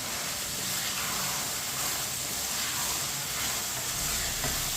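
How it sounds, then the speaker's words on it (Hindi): Boiled white chickpeas being stirred in a hot cooking pot, giving a steady, fairly loud sizzling hiss with soft scraping stir noises throughout and no talking. "चनों को मिक्स कर लेंगे।"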